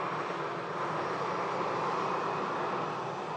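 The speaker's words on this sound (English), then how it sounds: "Transat about to depart." Steady, dense broadband roar of a Transat airliner's engines departing Manchester Airport in stormy weather, continuous and fairly distant with no talk over it.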